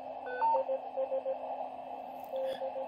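A ham radio receiver carries a steady tone that shifts pitch as the RIT control is adjusted, alongside short beeping tone pulses; the sound is faint and clean, with no voices.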